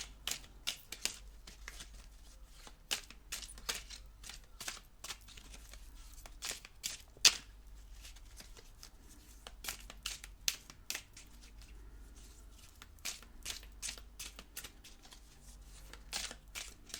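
Tarot cards shuffled by hand, a quiet run of sharp riffling bursts in uneven clusters across the whole stretch, close and soft with no talking.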